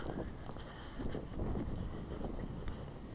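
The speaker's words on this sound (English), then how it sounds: "The heavy wind." Heavy wind buffeting outdoors, a steady low rumbling roar with gusty surges and no talk.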